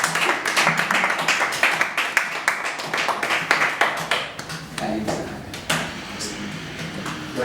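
A church congregation claps to welcome a teacher to a Bible class, with sharp, uneven claps and taps scattered across the moment and some voices mixed in underneath.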